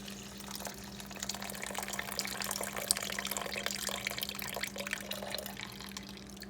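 Warm tap water pours into a bowl on a kitchen scale for sourdough bread, a steady splashing stream over a constant low hum, without speech.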